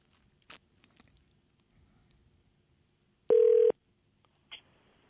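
A telephone being dialed for a radio call-in gives a single clear electronic tone lasting under half a second in a quiet room, followed by a faint second beep starting shortly after.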